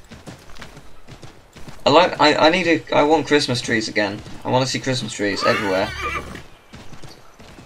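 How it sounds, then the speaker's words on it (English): A horse gallops in the video game Assassin's Creed 3, steady clip-clop hoofbeats and a whinny running under someone talking for most of the stretch. "Well, it sounds like a realistic horse."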